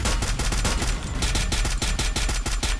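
Rapid automatic gunfire in a battle royale video game, loud dense bursts of shots in a fast steady rhythm that continue without a break.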